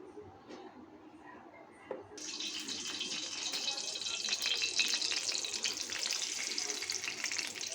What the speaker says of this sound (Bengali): ওখানে আমি এক এক করে এগুলো ভাইজা নিব তো হয়তো আমি কিছুটা তেল দিয়ে নিই